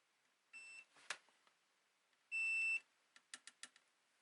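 Multimeter continuity beeps while probing the legs of a bad capacitor on a trash-picked Sony PlayStation 3 Slim: two steady electronic tones separated by short clicks and taps, then a quick run of sharp ticks.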